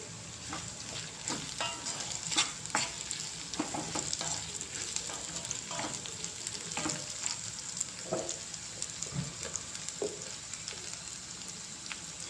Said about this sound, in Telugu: ఇప్పుడు కరివేపాకు కూడా వేసుకోవాలి.